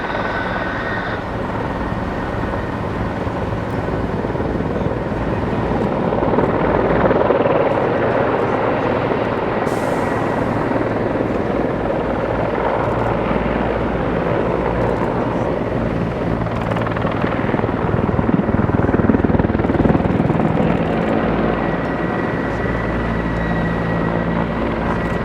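A Czech Air Force attack helicopter flies a display at a British airshow, its heavy rotor thudding and turbine roar sustained and loud, swelling and easing slightly as it manoeuvres nearby.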